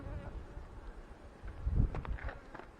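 Honey bees in a freshly opened hive at a fireweed bee yard, a soft, steady low buzz with a swell of louder activity near the middle, close by and without talk.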